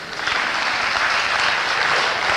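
Audience applause at a poetry and music performance by Prigov, Pekarsky and Rubinstein: a dense, steady wash of many hands clapping together, close and full, holding evenly throughout.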